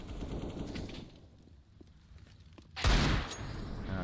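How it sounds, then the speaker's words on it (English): AK rifles and Desert Eagle pistols firing in a CS:GO match, rapid bursts of gunfire that drop to a quiet lull, then a sudden loud close volley. "Five AKs up against five pistols, four of them deagles"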